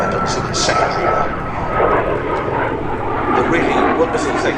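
A military ground-attack jet flies past at an air show, a loud broad engine roar that swells and rolls continuously over several seconds, with the jet noise filling the air close by.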